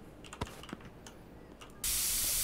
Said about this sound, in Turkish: Hemen birazcık sprey sıkalım.